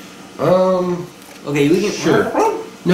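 A dog at home barks and yips briefly during a Modern Magic card game, short voiced calls mixed with people talking over it.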